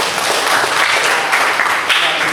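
A classroom of students applauds a classmate's complete answer, a dense steady wash of clapping hands filling the room for a couple of seconds.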